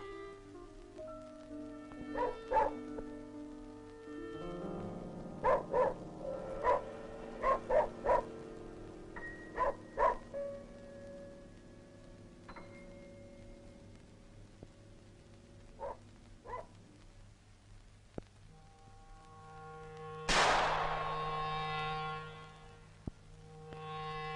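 A Mansi hunting dog in a Ural forest barks in clusters of sharp, moderately distant yelps, scattered through a quiet stretch and ending with a louder burst near the close.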